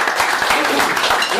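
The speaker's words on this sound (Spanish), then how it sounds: "Les daremos un fuerte aplauso a todos." Audience applause at an outdoor folk copla gathering, a dense, steady wash of clapping from a crowd, close and continuous throughout.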